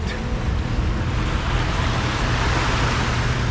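Surf rolls onto a beach at Cabo San Lucas, a continuous broad wash of breaking waves close by, steady and moderately loud with no voices.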